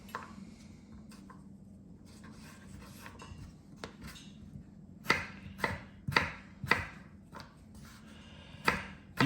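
Knife chopping potatoes into julienne on a cutting board, starting with soft scraping and light taps, then sharp distinct chops in an irregular rhythm, close and fairly quiet with no talk.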